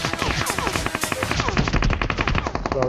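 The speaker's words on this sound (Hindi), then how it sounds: "मेरे ऊपर फायरिंग स्टार्ट हो जाता है" Rapid bursts of automatic gunfire in the battle royale game BGMI, a loud sustained rattle of close shots over a busy game soundscape.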